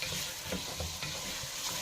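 Onions, garlic, spices and green fava beans are stirred in a hot pan, a brief, steady sizzle with soft scraping and clinks of the spoon close by.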